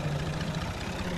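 A silage cutting machine working alongside a tractor and trolley during corn silage making gives off a steady, loud mechanical drone with a low engine hum throughout, and no voices.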